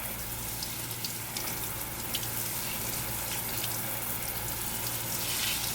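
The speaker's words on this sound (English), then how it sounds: "I'm just taking warm water and I'm only wetting the front" Warm tap water runs steadily into a sink while fabric is rinsed out, a continuous close hiss and splash with no talking.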